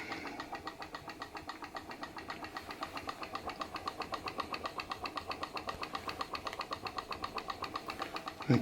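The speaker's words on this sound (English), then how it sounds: "that's the PM Research glass engine running the Baker fan" PM Research glass Stirling engine driving a Baker fan, chuffing in a steady, even pulse that is fairly slow, close and moderately loud, continuing without talk until a short bump at the very end.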